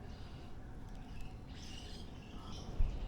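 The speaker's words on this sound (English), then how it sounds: "Lots of birds making noises." Faint, distant birds chirp and call in a Japanese public park on a rainy day. Brief scattered calls rise over a steady, soft outdoor hiss.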